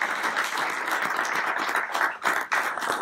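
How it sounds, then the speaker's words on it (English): Audience at a baseball hall of fame film festival gives a round of applause: a dense, lively burst of many people clapping close by, continuous with small fluctuations and a couple of brief dips toward the end. "I'd like if we could just take this moment to give a round of applause to Mr. and Mrs. Powell and Ryan Powell."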